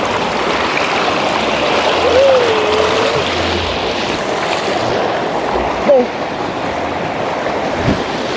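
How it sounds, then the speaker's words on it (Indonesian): Strong stream water rushes steadily near a geyser amid trees, a broad continuous roar close to the microphone with a brief bump partway through. "Ini deras sekali airnya."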